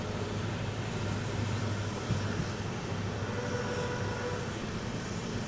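A deep, steady EMD diesel locomotive engine drone with a broad rumbling roar, constant and loud throughout, no talking.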